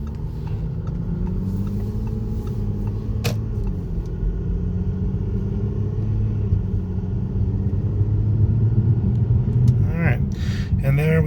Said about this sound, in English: we'll just do a regular takeoff here so you guys can get a feel for that as well